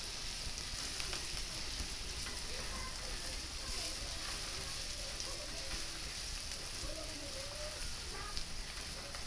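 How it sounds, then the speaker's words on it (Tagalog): Steady crackling sizzle of chow fan frying in a pan, continuous and even throughout, with faint voices in the background. "Konting prito lang."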